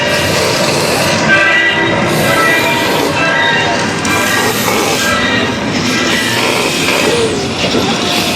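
A Universal Studios Hollywood backlot tour tram rolls along with a steady, loud rumble, a constant hum and rattling throughout.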